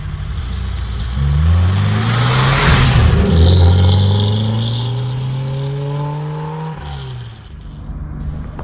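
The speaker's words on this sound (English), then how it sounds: "Now let's get this 300 SL out on the road." A vintage Mercedes 300 SL race car driving on a road, its engine revving loudly and rising through gears, then easing off, close and dominant with a strong throaty drone.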